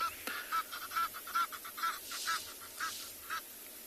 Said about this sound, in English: And now there's Egyptian geese that's calling.